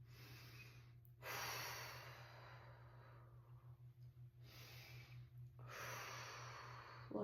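Deep breathing during a chest and sinus congestion relief exercise, slow nasal inhales and exhales in a few long cycles, close and quiet over a low steady hum.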